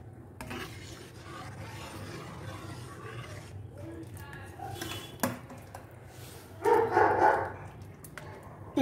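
A spoon stirs sweet potato mixture into milk in a pot while making sweet potato kheer, giving soft, steady scraping and swirling close by, with a louder scraping burst near the end.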